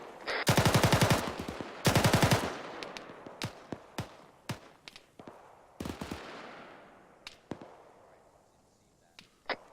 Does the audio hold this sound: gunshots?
yes